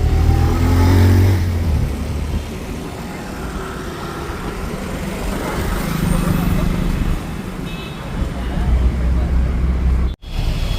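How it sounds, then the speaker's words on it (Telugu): Heavy city traffic rumbles around a bus riding from Uppal to Jubilee Hills in Hyderabad, with steady road noise and engines revving nearby. Voices come and go over the din, which cuts out briefly near the end. "TV9 నుంచి కూడా చాలా అంటే చాలా ట్రాఫిక్ ఉంటుంది ఫ్రెండ్స్"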